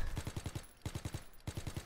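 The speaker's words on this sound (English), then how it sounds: "Did you see me just start shooting crap?" Automatic gunfire in a World War II prop hunt video game rattles out in three quick, loud bursts of rapid shots with short pauses between them, and no talking.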